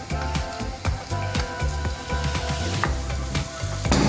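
Two medium chopped tomatoes go into onions frying in a pan for spicy sausage biryani, giving a steady, loud sizzle with light clattering throughout.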